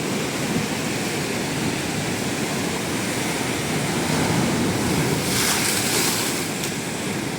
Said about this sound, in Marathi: आवाज बघा याचा आवाज बघा पाण्याचा